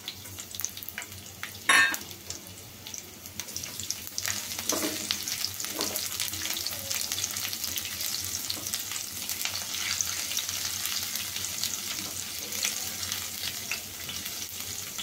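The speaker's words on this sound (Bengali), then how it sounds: "তেল দেওয়ার পরে একটু রসুন ছেড়ে দিলাম।" Steady sizzling of garlic frying in hot oil, a continuous hiss throughout with a brief louder clatter near the start.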